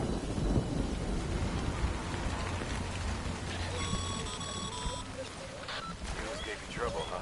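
In the video game Death Stranding, steady rain hisses and rumbling thunder rolls beneath a voice talking, with a brief electronic chime partway through.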